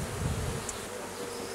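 Honeybees humming inside an open beehive where young queens and young bees were put back on a frame, a steady low drone with no voices.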